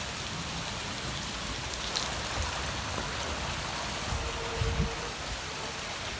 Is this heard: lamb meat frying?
no